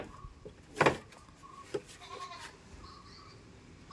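A goat bleats a few times nearby with short, wavering calls, the loudest early on. Quiet pauses and faint rustling fill the gaps between bleats.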